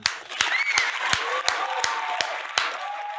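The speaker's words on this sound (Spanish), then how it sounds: "¡Aplausos para el pueblo cubano!" About nine sharp hand claps in an even, deliberate rhythm, close and fairly loud, with a voice speaking over them as applause is called for the Cuban people.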